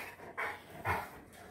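Puppies pant and give soft, short yips close by, two brief bursts of breathy canine sound over a quiet indoor background, with no talk.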